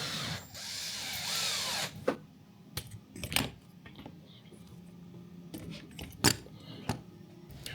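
A power drill drives a screw into wood, with a sustained whirring buzz for about two seconds, followed by scattered knocks, clicks and handling clatter nearby; faint speech is heard in places.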